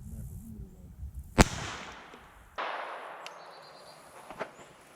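A single sharp crack from a .22 rifle fired at an old brick wall outdoors, loud and close, followed by quieter rustling and faint background noise.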